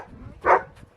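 A single short dog bark rings out at moderate distance, brief and alone, with faint background noise around it.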